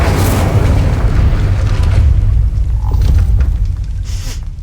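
Fiery Incendio spell blast in Hogwarts Legacy, a loud booming burst that opens the clip and then rumbles and crackles on as a low roar, alone without talk.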